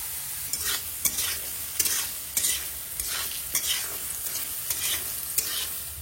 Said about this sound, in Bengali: এটাকে একটু ভালো করে ভেজে নেব।